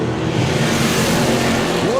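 A tri-Chevy drag racing car at a doorslammers event runs with its engine held at a steady roar and the throttle feathered, a dense continuous mechanical drone with a rising pitch sweep near the end, mixed with crowd noise.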